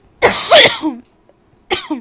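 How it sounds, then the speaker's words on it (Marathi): A person sick with fever coughs close to the microphone: a quick cluster of harsh coughs, a short pause, then another brief cough, with no speech. "खोकला पण आहे"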